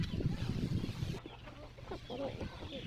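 Chicks on a rural backyard farm cluck and peep in short, overlapping calls that run steadily throughout, fairly close, with a busier, louder stretch at the start.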